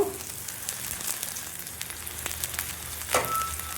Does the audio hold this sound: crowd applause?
no